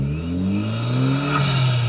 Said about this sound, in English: So pulling away from a traffic light, and I'm just doing 30 miles an hour. That turbo is noisier.